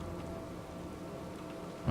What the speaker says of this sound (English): I like how it's raining.